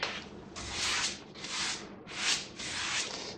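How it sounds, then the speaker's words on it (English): A wallpaper smoother swept across freshly hung paper on a wall, four close rhythmic scraping strokes, each swelling and fading, with no talking. "always when you're smoothing, from the center out to the edge"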